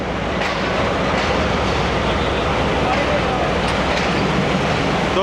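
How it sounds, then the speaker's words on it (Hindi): The 42 Down Karakoram Express rake pulling into a station in Pakistan, a continuous loud rumble and rattle of railcars close by with voices under the noise. "42 डाउन कराक्रम एक्सप्रेस का रेक लग रहा है"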